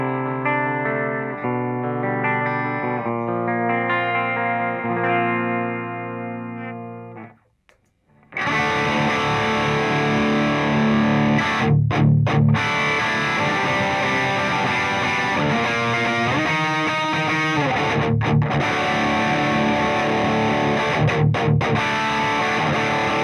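A distorted electric guitar through a Boss RV6 reverb into an Orange Brent Hinds Terror tube amp head plays a clean, chiming arpeggiated phrase, pauses briefly, then crashes in loud and saturated with heavy drive and washy reverb, sustained chords ringing.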